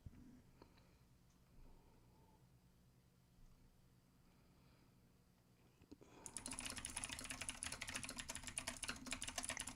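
Rapid typing on a computer keyboard starts abruptly after a quiet stretch, producing a dense, continuous patter of close key clicks that runs to the end.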